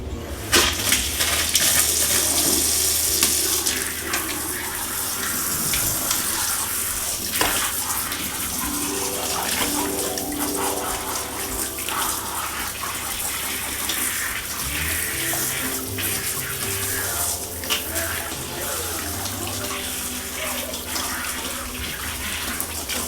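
Running water from a tap or sprayer gushes and splashes steadily while a Golden Retriever puppy is rinsed during its first bath, continuous and close, with occasional sloshing and shifts in flow.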